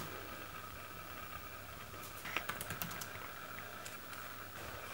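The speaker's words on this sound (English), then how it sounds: "when you come in here and you hear me typing away, stay out." Typing on a computer keyboard in a quiet room: a faint, irregular patter of soft key clicks over steady background hum, growing busier midway, with no voices.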